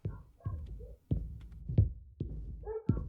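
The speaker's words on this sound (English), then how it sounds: "Tell the neighbor dogs to shut the hell up." Neighbor dogs bark in a video game, a series of sharp, fairly close woofs spaced roughly every half second to second, with no talking over them.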